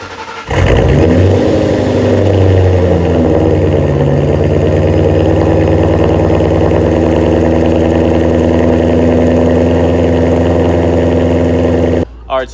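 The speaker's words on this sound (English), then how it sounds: "we'll get a nice little cold start right here" A tuned car engine fires up from a cold start with a loud burst, then settles into a steady, rumbling high idle as it warms, continuous and close, before cutting off near the end.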